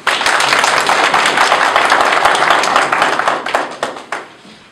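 An audience at a traffic police interactive session in Kargil claps to welcome the SP, a dense, loud burst of applause that fades out toward the end.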